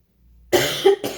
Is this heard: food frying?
no